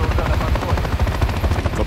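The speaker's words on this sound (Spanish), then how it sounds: "Helicóptero." A military helicopter in Call of Duty: Modern Warfare III, its dense rotor throb sustained and loud throughout, with gunfire-like bursts mixed into the chaotic battle soundscape.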